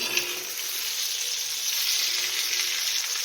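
Stuffed green chillies sizzle and fry steadily in a pan, a continuous bright hiss with no talk over it.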